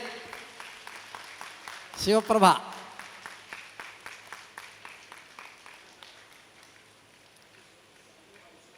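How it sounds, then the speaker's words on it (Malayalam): Audience clapping at a Sopana music cultural event in Palakkad, a short burst of applause that tapers into scattered claps while someone speaks over it on a public address system. "കയ്യടി കയ്യടി."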